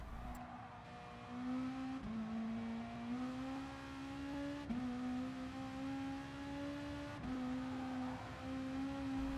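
A car accelerating hard around the Nurburgring in Gran Turismo Sport, its engine note climbing steadily through repeated gear shifts, loud and continuous with no talking.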